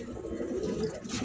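Pigeons for sale, of a top-quality breed, give a soft, close, low cooing that rises and falls through a short burst, heard alone without talk.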